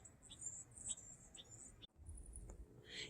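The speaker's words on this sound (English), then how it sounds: "right now that bird that you heard was a Bewick's wren" High, thin Bewick's wren notes repeat in quick chirpy bursts, fairly quiet against a soft garden background, with a brief pause partway through.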